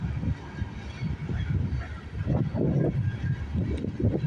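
CN freight train rolling past at Snider, Milepost 23 on the York Subdivision, a steady low rumble with clanking swells and some wind buffeting the microphone throughout.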